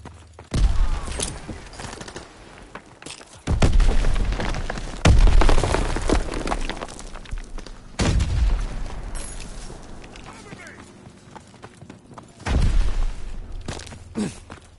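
Grenade blasts and gunfire ring out in Call of Duty WWII, with several heavy booms about every few seconds, crackling debris and scattered shots between them, loud and near.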